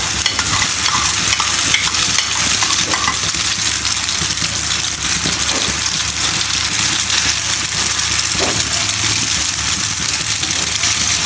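Egg poured over a paratha fries in a hot pan, a continuous close sizzle with scraping stirring noises running through it and no talk.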